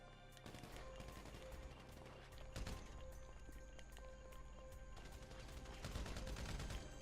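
Gunfire in Grand Theft Auto V, with several sharp shots and short bursts rising over a dense, steady bed of game music and ambient noise, and a louder cluster near the end.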